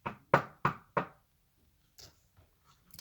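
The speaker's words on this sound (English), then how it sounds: "she heard a knock at the door." Four quick, sharp knocks rap on a door, close and distinct, followed by faint small sounds in an otherwise quiet room.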